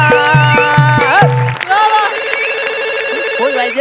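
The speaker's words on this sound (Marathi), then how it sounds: "फोन वाजला." A telephone rings in a comic stage sketch, with several evenly spaced electronic trills up front before the ringing gives way to a busier, sustained ringtone melody, loud and close, with some crowd noise underneath.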